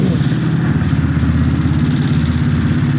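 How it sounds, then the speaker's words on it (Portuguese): A Honda CG 160 motorcycle engine rebuilt with a 7mm piston idles steadily up close on a cold morning, a loud, even rumbling thrum with a quick regular pulse. "Olha aqui como tá a moto, ó."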